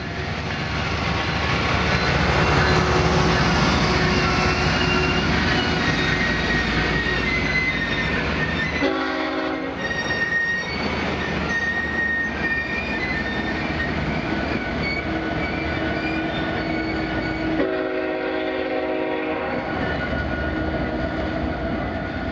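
Train riding along the Truckee Donner railroad: a continuous loud rumble of wheels on track with rhythmic clatter, brief squealing wheel tones and two short dips where the roar drops away.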